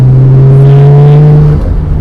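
A Nissan GT-R with a 2.6-litre twin-turbo engine, aftermarket exhaust and intake kit accelerates hard, its loud, close engine note droning steadily with a rising whine before easing off near the end.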